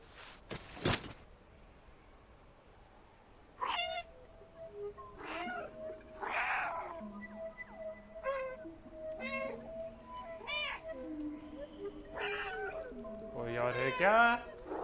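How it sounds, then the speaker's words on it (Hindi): A cat meowing repeatedly in the video game Stray, several distinct drawn-out meows spaced across the scene, fairly close, over quiet ambient game sounds. "क्या यहाँ पे एक बिल्ली म्याओ म्याओ कर रही है?"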